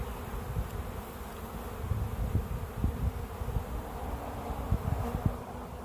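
Steady low buzzing from many honey bees during installation of a bee package, continuous and close, with occasional soft taps and rustles mixed in.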